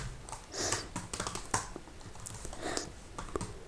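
Code is typed on a computer keyboard in quick, irregular bursts of crisp clicks and key taps, close and fairly quiet, with no talking.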